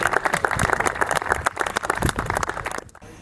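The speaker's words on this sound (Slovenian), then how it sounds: "En aplavz." Applause from a crowd at a golf championship award ceremony, a dense, steady patter of clapping that carries on for nearly three seconds before stopping abruptly.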